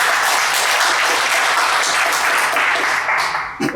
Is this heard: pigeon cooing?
no